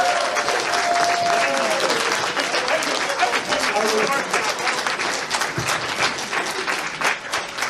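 Audience applause fills a convention hall during a furry convention improv comedy game show, steady and loud throughout with scattered cheers mixed in.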